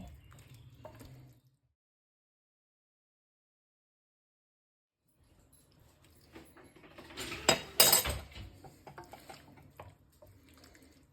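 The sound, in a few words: mixing parmesan into sauce in a pan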